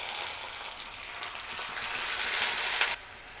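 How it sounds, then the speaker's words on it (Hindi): A splash of water poured into frying onion masala with garlic-ginger paste sets off a loud, dense sizzle that swells for about three seconds, then drops abruptly to a softer simmer, close up with no talk. "यहाँ पे हम हल्का सा पानी डालेंगे।"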